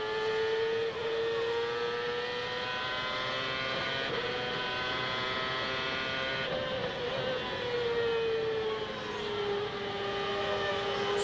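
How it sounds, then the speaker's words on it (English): A CART race car at the 2002 Milwaukee oval race screams at high revs, its engine pitch climbing and then dipping only slightly at each close-ratio top-gear upshift, heard steadily and loud from trackside over about eleven seconds. "You can tell just how close in ratio those 2 top gears are by listening to how little the revs fall when he makes the shift."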